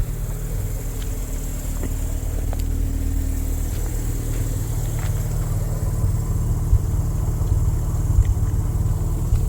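A Mazda RX7 rotary engine idles after a cold start in a yard, a steady close, low drone with a faint uneven lope and no talking.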